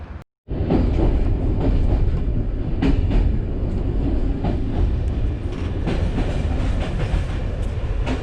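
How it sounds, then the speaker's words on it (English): A train pulling into a station in Bulgaria, a loud rumbling roll with rhythmic clicks of wheels over rail joints, heard close and steady after a brief silence at the start. "So the train pulled up."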